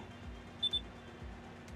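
In Farming Simulator 22, a combine harvester gives a quick pair of faint electronic beeps over a low, steady engine hum.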